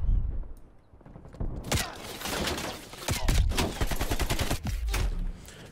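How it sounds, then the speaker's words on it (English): AK-47 fire in Call of Duty: Black Ops Cold War comes in loud, rapid automatic bursts of sharp cracks. A short gap separates the bursts, and mechanical thuds follow. "Feels like I shoot bullets and nothing hits."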